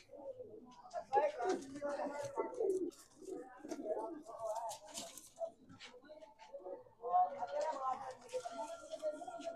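Gole Punjabi Madrasi pigeons at a seller's place coo repeatedly in soft, throaty phrases, fairly quiet and close, mixed with someone talking.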